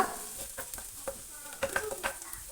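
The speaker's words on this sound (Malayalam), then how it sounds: "ഇനി നമുക്ക് ഇതിലേക്ക് 2 വറ്റൽമുളക് ചേർത്ത് കൊടുക്കാം. അതൊന്ന് ചെറുതായി ഒന്ന് ഫ്രൈ ചെയ്യുക." Two dried red chillies fry with ginger and garlic in hot oil, a continuous close sizzle with a spoon stirring and scraping the pan in quick irregular strokes.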